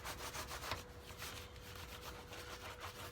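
Leather axe sheath being buffed with snow seal using a hand tool, a soft steady rubbing with repeated back-and-forth strokes, close and fairly quiet, with no talking.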